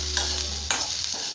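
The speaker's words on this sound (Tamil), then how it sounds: "செக்கப்பெல்லாம் வதக்கணும்." Ingredients for a Tamil marunthu kulambu spice paste sizzle and crackle in a pan as they are stirred, a continuous close frying hiss with a couple of louder scraping bursts.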